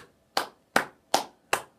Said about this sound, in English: A clap for you.